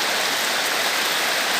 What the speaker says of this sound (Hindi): इतना बारिश हो रहा है